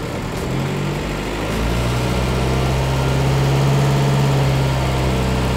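A Volkswagen Passat 1.9 TDI diesel engine with about 374,000 km, running without oil, idles steadily at close range with a low droning rumble that rises slightly partway through.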